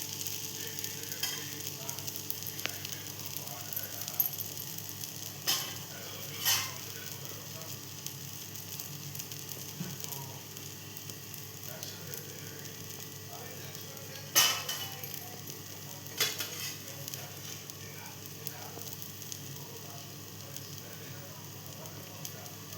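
Buttermilk pancake sizzling softly and steadily in a pan after being flipped, a faint continuous hiss with a few light clinks and occasional brief talk over it.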